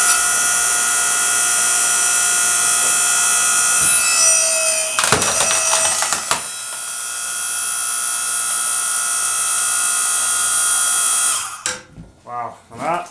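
A Harbor Freight Central Machinery 5 ton electric log splitter working through tough, knotty wood at the crotch: a loud steady motor whine runs throughout, with cracking bursts midway and creaking as the wood gives near the end.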